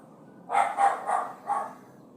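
A dog barks four times in quick succession at moderate distance, the sharp yaps spaced about a third of a second apart with a short gap before the last, against a quiet background.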